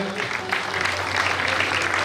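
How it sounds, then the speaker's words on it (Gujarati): Audience applause at a Gujarati community award ceremony honouring students, a dense, loud wash of clapping that holds steady for a couple of seconds, with no one speaking. "મિત્રો જોરદાર તાળીઓથી વધાવીએ."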